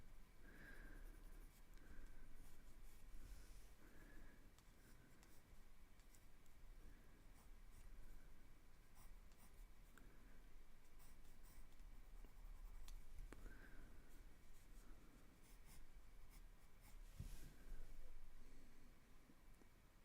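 A pencil sketches on copy paper, making soft, close scratching strokes in irregular bursts that continue throughout alongside faint room noise.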